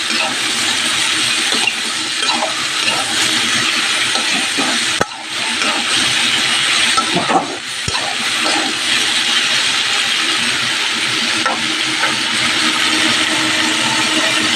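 Chopped okra and pointed gourd fry in a pan, a steady, loud sizzling hiss that runs throughout, with a few brief dips and faint stirring knocks underneath.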